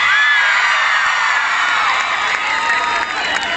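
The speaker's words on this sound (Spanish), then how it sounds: "Fuerte aplauso." A large concert crowd roars with loud cheering, whoops and shrill shouts, with some applause mixed into the sustained, dense noise.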